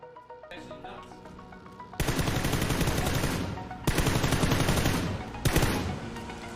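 Sustained bursts of automatic rifle fire in PUBG during recoil-control practice, sounding as three long, rapid strings of loud, close shots with brief pauses between them. Quieter game sounds come before the first burst.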